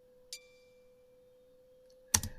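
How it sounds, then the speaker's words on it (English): An unprocessed guitar harmonic rings as a single clean, sustained tone, opening with a soft pluck and holding steadily at low volume before a sharp clatter cuts in near the end. "that's a harmonic on a guitar"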